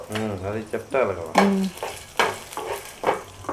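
Urad dal, chana dal and cumin seeds fry in a pan for Udupi sambar, with a soft sizzle and stirring clatter under brief bits of voice.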